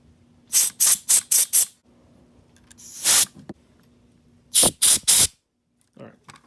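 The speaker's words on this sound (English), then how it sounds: "Just a little bit of spray there." Several short bursts of aerosol spray hiss while cleaning a motorcycle instrument cluster, five quick puffs in a row, then one longer blast and three more puffs, close and loud with a faint hum underneath.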